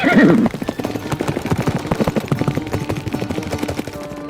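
A horse gives a loud whinny up close, then hooves clip-clop in a steady rapid rhythm on hard ground as the horse trots off, carrying riders.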